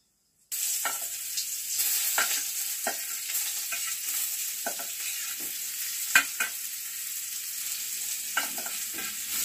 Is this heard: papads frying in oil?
yes